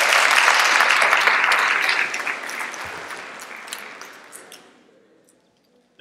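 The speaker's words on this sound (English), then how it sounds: "Give yourselves a round of applause." A leadership workshop audience applauds itself in a loud, dense burst of clapping that slowly fades over several seconds to silence.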